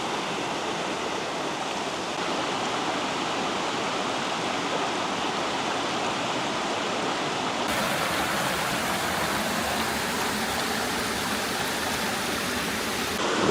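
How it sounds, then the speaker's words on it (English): Waterfall near the Two Lakes Trail in Seward, Alaska, roaring as a dense, steady rush of falling water heard up close, loud and unbroken throughout with no voices. "We've come up here just about as close as you can get to the falls now"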